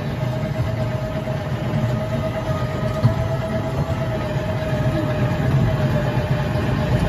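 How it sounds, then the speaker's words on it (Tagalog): A horror train amusement ride at Dinosaur Island in Clark, Pampanga rolls along its rails with a steady, droning rumble and a faint constant hum, continuous throughout with no voices. "Ano naman itong horror train?"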